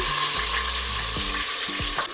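Ground turmeric and onion paste sizzles loudly in hot oil and ghee, a dense close frying hiss with a few brief spatter bursts, heard alone without talk.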